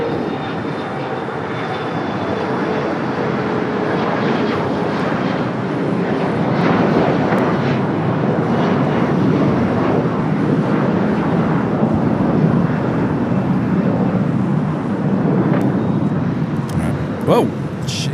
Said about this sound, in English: What is taking off there on the north side? A WestJet? 737-800, that 10-year-old WestJet Sunwing.